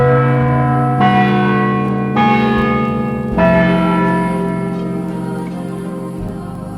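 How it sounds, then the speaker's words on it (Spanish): Cathedral bells ring from the clock tower of Nuestra Señora de Guadalupe in Reynosa, with three loud, resonant strikes about a second apart, each leaving a long humming decay that overlaps the next. No voices are heard. "al tiempo escuchaban el repicar de las campanas cada 60 minutos"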